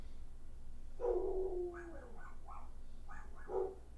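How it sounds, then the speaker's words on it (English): Dogs bark downstairs in a few short muffled yips and woofs, somewhat distant and moderately faint, over a low steady hum. "I'm just listening to the dogs downstairs."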